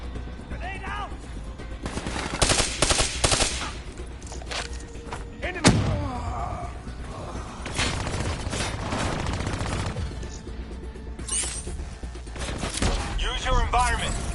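Rapid bursts of gunfire and explosive thuds in the video game Call of Duty: Black Ops 3, loud and dense across the whole stretch, mixed with heavy impacts and a brief chatter of game voices.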